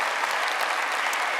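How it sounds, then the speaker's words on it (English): Conference audience applause at a product talk, a dense, even crowd of clapping that fills the brief moment at a constant level without pause or voices. "Give me a round of applause for saying that."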